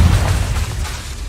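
Confringo spell blast bursting in Hogwarts Legacy, a single loud booming explosion that hits at once and then fades into a low rumbling tail.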